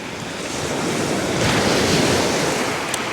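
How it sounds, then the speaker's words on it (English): Strong wind roars across a beach where a metal detector is being tested, mixed with a steady wash of surf and heavy rumbling wind buffeting on the microphone. "Now, it's very windy down there."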